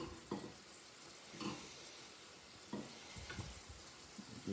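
Shrimp, cut down the middle, sizzle in a pan with garlic and wine sauce nearby, making a steady fry hiss with a few louder bursts as they are stirred.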